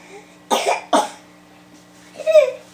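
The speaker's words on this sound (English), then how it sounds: "She likes to cough right in my face." A baby of about six months coughs twice in quick succession, close by, then gives a short, whiny vocal cry after a pause.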